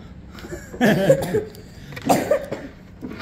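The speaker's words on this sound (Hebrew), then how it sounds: "כל פעם אתה משתעל, אתה הורג אותנו?" Two harsh, close coughs come about a second apart indoors, each a short rough burst with faint background sound between them.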